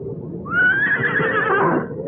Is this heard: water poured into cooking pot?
no